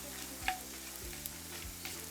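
Drumstick pieces fry in hot oil in a pan for a Jaffna-style fried drumstick curry, a steady close sizzle with a few soft stirring knocks, no voices.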